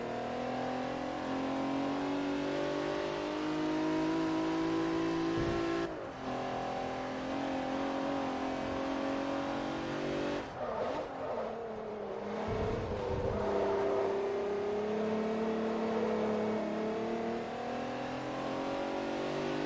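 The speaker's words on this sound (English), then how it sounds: "This car is actually really quick." A car engine revs and accelerates hard in Forza Motorsport 3, a loud sustained whine climbing through gears with brief dips at shifts, heard alone without talk.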